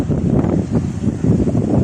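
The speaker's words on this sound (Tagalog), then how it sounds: "Humahangin-hangin pa oh." Gusty wind buffeting the microphone outdoors, a loud, low rumble that rises and falls in waves.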